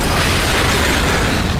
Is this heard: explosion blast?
yes